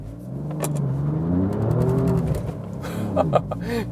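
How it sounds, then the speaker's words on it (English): A 510 hp Alfa Romeo Giulia Quadrifoglio revs hard, spinning its worn tires under full acceleration, pitch climbing and falling, with tire noise through most of it and a few sharp squeals near the end. "together with a little bit worn out tires, then directly get that real spin here"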